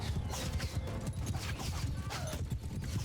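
Horses clip-clopping in the Mount & Blade II: Bannerlord video game, a dense, steady patter of many hooves moving together during a large battle, heard alone at moderate loudness.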